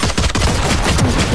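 Rapid gunfire in the tactical shooter Valorant, a dense burst of loud sharp shots packed into about a second and a half, close and unbroken, with no talk over it.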